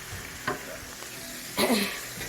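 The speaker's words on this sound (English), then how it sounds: "the meat part of this, because we need to give it a little sear" Meat for eggs Benedict searing in a pan, a quiet steady sizzle broken by a brief scrape and a stronger burst of spatter later on.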